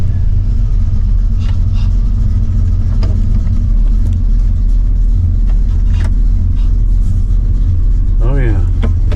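A Blueprint 350 V8 engine cold-starts and settles into a steady, loud, rumbling idle that runs throughout, with a voice speaking briefly near the end.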